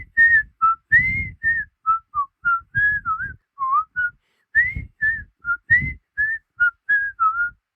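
A person whistles the Andy Griffith Show theme, a bright, close, steady melody of short phrases broken by breaths.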